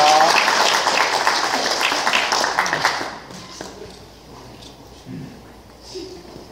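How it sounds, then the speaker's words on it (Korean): A church congregation at Mass claps in welcome, a dense burst of applause that fades after about three seconds into scattered claps and a quiet room with faint voices. "네, 환영의 박수 부탁드립니다."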